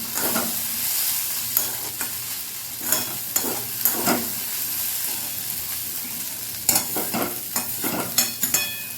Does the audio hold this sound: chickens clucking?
no